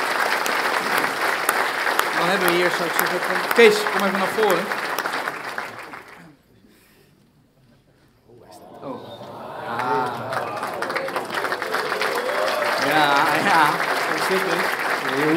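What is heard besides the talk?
audience applauding at New Year reception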